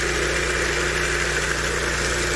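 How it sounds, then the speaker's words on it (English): An MBW 36-inch high-torque power trowel with a big, high-RPM motor runs at a constant level, producing an unbroken close engine drone with a low vibrating rumble. "You guys like this power trowel or not?"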